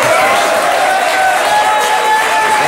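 A French TV studio audience applauds a show contestant, a steady wash of applause and crowd noise throughout with no clear pauses.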